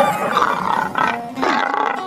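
A big cat, a tiger or lion, roars in a forest tale about a foolish hunter: loud, rough growling roars in two or three surging bursts, close and alone with no talking.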